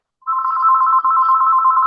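A telephone ringtone sounding during an online call: a single steady warbling electronic ring that starts abruptly and holds loud and close for under two seconds, with no talk.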